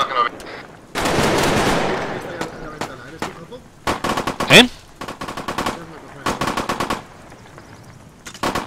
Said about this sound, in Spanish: Están disparando aquí, ¿eh?